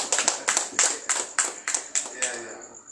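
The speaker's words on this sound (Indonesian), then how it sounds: "Tepuk tangan untuk." An audience breaks into applause, bursts of clapping arriving in quick uneven pulses for about three seconds, moderately close and fading out at the end.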